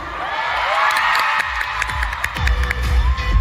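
Fans at a fan event in Manila cheer and shout loudly, with whoops and excited voices swelling in bursts over a steady roar.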